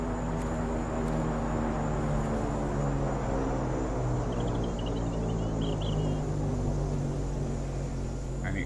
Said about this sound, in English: this is where the plane comes